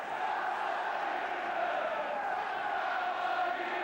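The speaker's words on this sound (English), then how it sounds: "a big holiday crowd and keen to make a lot of noise" Large holiday crowd at a 1977 football match between Chelsea and Luton, a steady distant roar of voices and chanting that holds level throughout without breaks.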